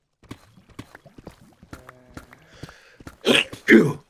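A sneeze in a Minecraft play session, two sharp loud bursts near the end following quieter clicks and faint sounds, close to the microphone.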